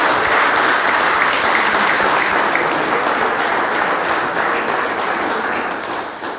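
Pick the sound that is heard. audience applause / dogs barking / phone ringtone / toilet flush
audience applause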